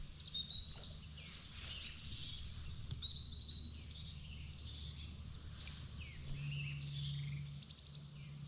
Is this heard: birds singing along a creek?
yes